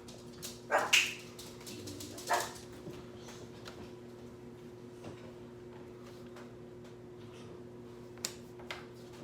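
Restless dogs reacting to a moving truck outside let out a few sharp barks near the start, then go mostly quiet with faint ticks and hum in the room.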